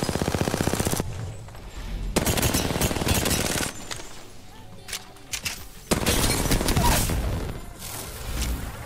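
Bursts of rapid automatic gunfire from a PC shooter video game, loud and close, coming in several long sustained volleys separated by brief quieter gaps.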